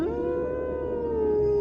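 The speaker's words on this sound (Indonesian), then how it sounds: "Itu adalah suara anjing-anjing penarik kereta luncur." Sled dogs in Nome, Alaska, in 1925 let out one long, sustained howl that rises and then slowly falls, steady and fairly close, with no other sound around it.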